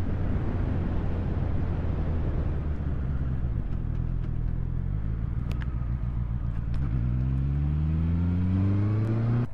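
A Honda CB650R motorcycle rolls along at walking pace, its engine a steady, close, low drone that climbs in pitch as the revs rise near the end, with no voices.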